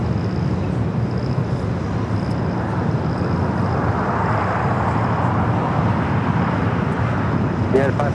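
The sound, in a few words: American Airlines Airbus A321neo jet taking off at LAX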